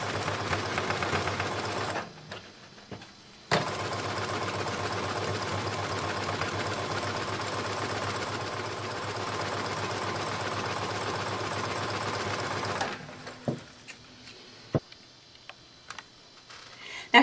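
Sewing machine stitching a zigzag seam on a swim dress, running in a long continuous whirring burst with fast ticking needle strokes, framed by brief starts and stops and quieter clicks at the end.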